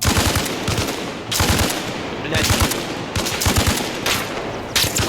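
Rapid bursts of automatic gunfire in the game Arma Reforger during a forest firefight, loud and close, firing in repeated volleys with brief pauses; a man swears once over it.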